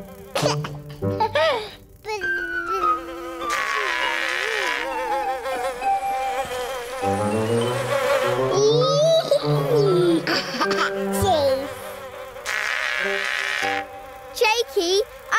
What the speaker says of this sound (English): Purple space bees are making all this sticky space honey.